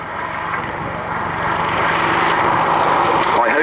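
An Army Air Corps Apache helicopter flying a display manoeuvre at an airshow, its steady loud rotor and engine roar filling the air under an announcer's commentary.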